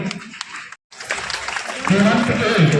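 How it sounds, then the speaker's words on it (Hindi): Applause from a crowd at a school results ceremony, patchy at first, a brief cut, then fuller clapping with voices mixed in. "इनकी मम्मी आई है, जोरदार ताली बजाएंगे।"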